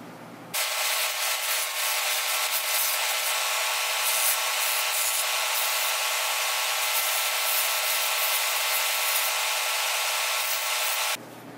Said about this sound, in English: So I went ahead and sanded this shoe down.